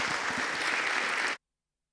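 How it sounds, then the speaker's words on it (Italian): An audience at a short film festival jury program breaks into applause, dense and steady for over a second before cutting off abruptly into silence. "Allora un applauso."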